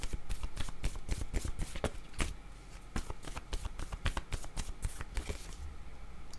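Guide cards for a card reading are shuffled by hand in a quick run of crisp, close riffling slaps that slow toward the end, with no talk over them.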